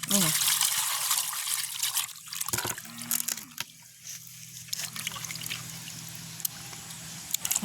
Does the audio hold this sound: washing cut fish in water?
yes